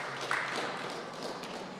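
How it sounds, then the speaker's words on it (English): Audience applause at a collegiate summer baseball player draft event, a short burst of scattered clapping from a modest crowd, fairly faint and diffuse. "another round of applause for Dante Nori, the 2nd overall pick, if you all don't mind"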